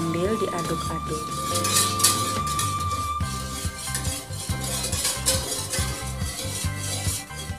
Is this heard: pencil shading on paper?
no